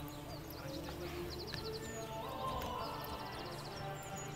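In the video game Manor Lords, a horse-drawn carriage clip-clops along at a steady walking rhythm, faint and quiet over a low ambient background.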